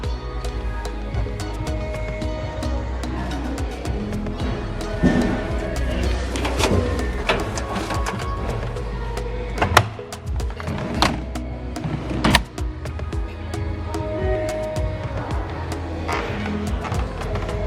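A Samsung Series 5 9 kg washing machine on a 1400 rpm spin wash gives a loud, steady whirring drone, with rattling knocks and clatter running all the way through, heard up close.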